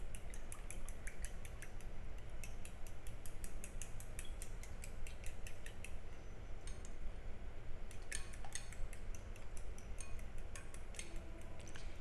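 An egg with salt is beaten in a bowl, fast rapid clicking taps of the utensil against the bowl in a steady run, close and alone, with a short pause partway through.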